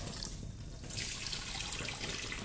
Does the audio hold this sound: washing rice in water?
yes